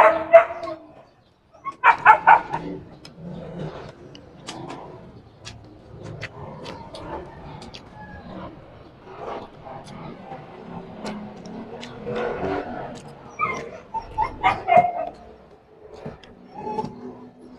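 A dog barks in short sharp bursts with yips and whimpering in between at an outdoor cookout, fairly close and loud, with quieter stretches between the louder volleys.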